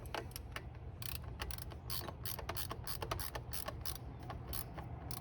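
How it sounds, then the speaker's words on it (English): Nuts on the bottom of a Trail125 stem clamp being tightened with a ratchet, a rapid run of close, quiet metallic clicks repeating steadily throughout, with no talking. "Now I'm gonna basically tighten up the nuts on the bottom."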